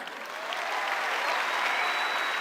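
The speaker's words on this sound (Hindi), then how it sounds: "सिर्फ मिडिल क्लास लोग ही ताली बजा रहे हैं" Audience at a success testimony event clapping in a dense, even wash of applause, loud and sustained throughout the short stretch without any talk.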